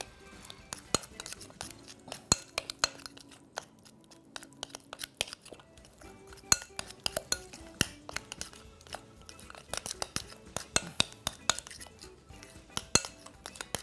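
A spoon scrapes and clinks against a bowl while a salt and spice mixture is stirred, giving irregular sharp taps and scratches over a quiet background.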